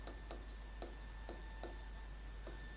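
Chalk or marker strokes on a board during a chemistry lecture on dioxygen bonding, heard as about six short, separate scratchy taps, each a fraction of a second long, spaced out over a steady hum of room noise, with no talking.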